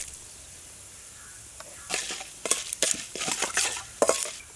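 Chana dal, urad dal, mustard seeds, curry leaves and dried red chillies fry in oil for a chutney tempering, giving soft crackling and sputtering bursts that grow denser after a quiet start, close by.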